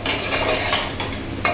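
Masala cooking in oil and being stirred in a home kitchen makes a continuous sizzle with scraping spoon strokes and a sharper clink near the end.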